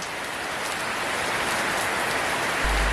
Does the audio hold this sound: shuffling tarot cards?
no